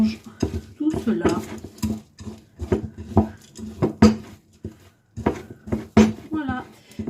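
Cookie dough being stirred with chocolate chips in a bowl, giving repeated utensil scrapes and knocks against the dish, with someone talking throughout.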